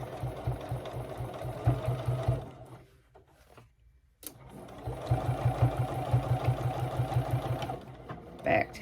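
A sewing machine stitches a back tack on fabric, running in rapid rhythmic bursts, pausing briefly mid-way, then resuming at a steady clatter, close and moderately loud.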